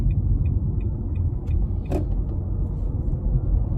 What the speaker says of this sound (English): traffic is crazy.